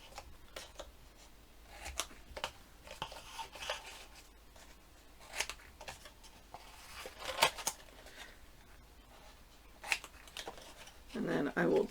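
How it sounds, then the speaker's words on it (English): Scissors trimming a thin sliver off chipboard while a mini album is made, with faint scattered snips and rubbing paper sounds, close and quiet, and a louder scraping burst at the end. "put my scissors up against the chipboard, and just take a sliver off"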